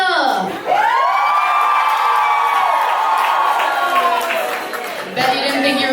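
A live audience cheers and whoops loudly at a comedy podcast taping, a sustained roar of shouting voices that rises quickly, holds for several seconds and then fades.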